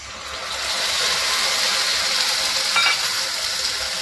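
Tomato puree lands on browned onions in a hot pan for kale chane bhaji, producing a steady, loud broadband sizzle that swells and holds, with faint stirring and no speech.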